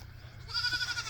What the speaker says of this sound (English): You can see my little baby goats.